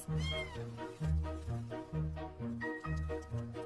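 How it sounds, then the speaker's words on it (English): A mother cat with her kittens mewing in a rapid string of short, high meows, close and clear, one call after another with brief gaps and no talking. "A mother cat and her cute kittens."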